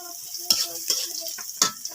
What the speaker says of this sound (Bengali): আমি এর ভিতরে মশলা দিয়ে দেবো গোটা গরম মশলা,